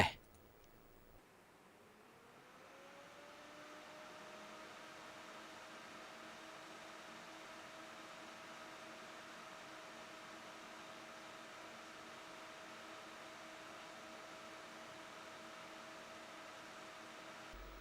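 An ALSEYE i600 PRO CPU air cooler with a 120mm fan, run up to 3000 RPM, gives a steady close airy whoosh with a faint tone that rises over the first few seconds and then holds level. No one speaks.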